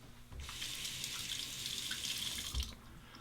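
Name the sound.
rinsing razor under running tap water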